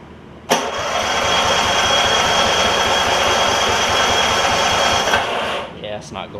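A 9hp Kawasaki engine fitted to a John Deere RX75 riding mower, with choke applied, cranks loudly and steadily for about five seconds with a fast rhythmic chug, then stops without starting.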